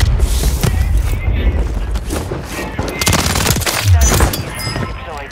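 SOA Subverter rifle gunfire in Warzone on Rebirth Island, loud rapid bursts of automatic fire close up, overlapping with other distant shots and game noise.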